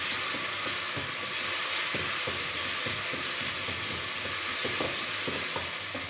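Tomato paste sizzles steadily in a hot pan for meatball stew, a close continuous frying hiss with occasional stirring scrapes and no talk.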